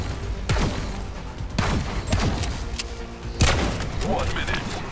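Gunshots in the VR dueling game Blaston, including a sniper rifle: several loud blasts and thumps over a busy layer of game effects and music, with sharp hits around the middle and a heavier one near the end.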